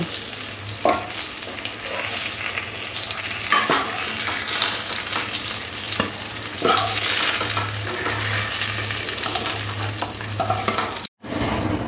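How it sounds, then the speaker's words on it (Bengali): Pointed gourd (potol) pieces fry in hot oil with a constant crackling sizzle, punctuated every few seconds by soft stirring scrapes close by. "পটলগুলো এরকম লাল করে ভেজে নিতে হবে"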